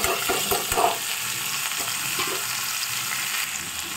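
Onion, beans and potato sizzle together in a hot pan, a steady close hiss of frying with a few clatters of stirring at the start, no voices.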